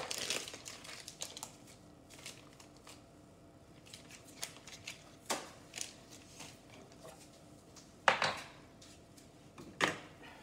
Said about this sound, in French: J'amène toute la pâte au fond de la poche.